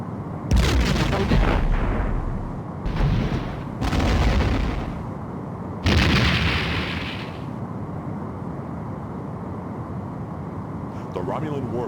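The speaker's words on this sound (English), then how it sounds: "The Romulan warbird has been destroyed." A Romulan warbird explodes in a space battle in the game Star Trek: A Final Unity, a series of four heavy, booming blasts up close, followed by a quieter stretch with a low hum.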